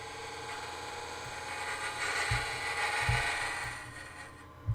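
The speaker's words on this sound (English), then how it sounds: "Now I'm going to use a smaller scraper to get in there." A wood lathe spins a turned slip-fit box while a scraper cuts under its rim, giving a continuous whirring hum with light scraping and a few soft low knocks. No one speaks.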